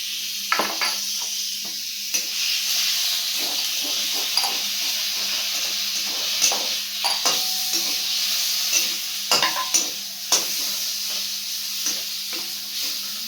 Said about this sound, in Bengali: টমেটোটা দিয়ে দিচ্ছি